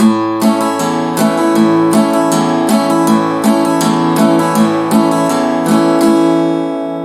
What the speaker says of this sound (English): An alternating bass strum.